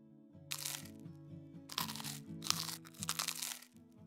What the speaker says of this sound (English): Trigger number 1, chewing.